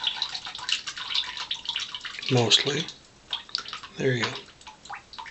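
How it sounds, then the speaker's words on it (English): Water trickles and drips from a soaked silvertip badger shaving brush held over a sink, soft and close, with someone talking over it. "I'm just going to hold this until it stops draining, mostly."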